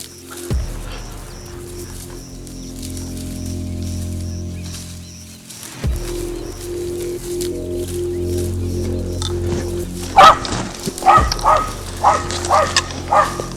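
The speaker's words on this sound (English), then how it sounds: "Foxy started barking and running in circles." A dog named Foxy barks repeatedly at a wounded Cape buffalo in heavy bush, sharp yips and barks in quick bursts over a steady low hum, growing busier toward the end.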